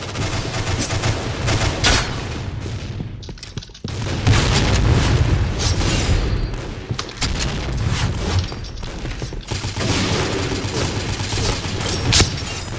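G36 assault rifle fire in the game Point Blank: dense, rapid bursts of loud gunshots with booming impacts, nearly continuous with a few short pauses, and barely any voice.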